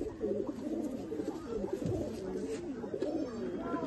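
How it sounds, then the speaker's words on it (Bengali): Kalanka pigeons coo softly and repeatedly in a home loft, low rolling calls overlapping one another at close range, fairly quiet. "দাদা বাড়ির কালাঙ্কা পায়রা"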